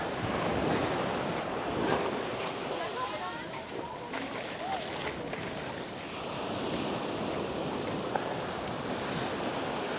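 Waves breaking on Thomas Beach in Bali, a steady broad wash of surf with gusts of wind buffeting the microphone throughout, the roar holding fairly even with slight swells in loudness.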